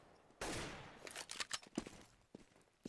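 Gunfire in the tactical shooter game CS:GO, a loud opening burst followed by a rapid scatter of sharp shots and clatter, dense in the middle and trailing off into a few isolated cracks.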